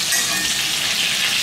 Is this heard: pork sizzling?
yes